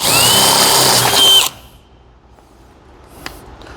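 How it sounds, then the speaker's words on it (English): A power drill with a pilot bit bores through an aluminum extrusion with a loud, steady whine for about a second and a half, then cuts off abruptly, leaving a quiet room with one faint click. "I'm going to drill all the way through the extrusion at this point."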